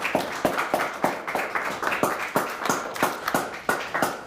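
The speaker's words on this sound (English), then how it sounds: "let's have a round of applause for both of our teams today" Small group clapping for two quiz teams, Pentwater and Brethren, after a quiz game final; a steady, sparse run of separate claps in a fairly quiet room, moderately close.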